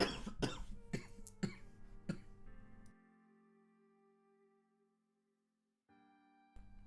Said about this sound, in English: sorry, I knew I was gonna have a cough